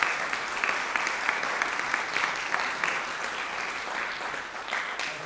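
Audience applause at a graduate music recital, a dense, steady clatter of many hands clapping throughout, fairly close and even in level, without talk.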